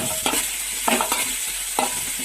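Onions sauté with salt in a pan for egg biryani, a continuous bright sizzle broken by three distinct scraping stirs of a spoon, close and fairly loud.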